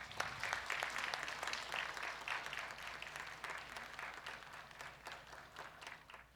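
A church congregation applauds as a retiring deaconess receives a plaque after sixteen years of service. The clapping is steady and fairly distant and softens toward the end.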